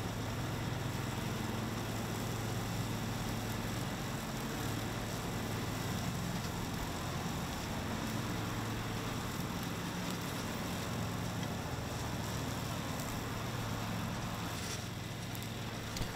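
A farm tractor drones steadily while pulling a 10-foot batwing mower along a ditch bank near a grain bin, its engine and spinning blades a constant close hum for the whole stretch with no break or talking.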